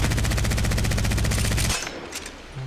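The Devotion energy light machine gun firing in Apex Legends, a steady, loud stream of rapid automatic shots that abruptly stops, leaving faint game noise.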